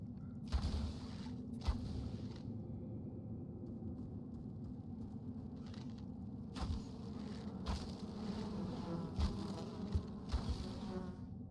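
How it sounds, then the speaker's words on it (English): Enshrouded bees in the survival video game Enshrouded give a constant low, dense buzzing drone, mixed with scattered game effects and soft thumps. "How many enshrouded bees are there?"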